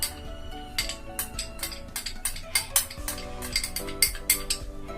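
A spoon stirs thickening custard in a pot for kulfi, scraping and clinking steadily against the metal sides in a busy run of small, close knocks and ticks, with no voice.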